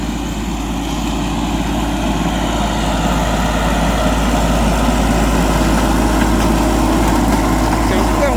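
A used imported ride-on lawn mower runs steadily while cutting grass in a durian orchard, a constant loud engine drone that holds throughout with no pauses.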